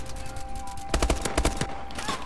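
Rapid gunfire from the Steel Bite gun in Call of Duty Advanced Warfare, heard as two quick clusters of punchy shots with lighter clicks and game ambience around them.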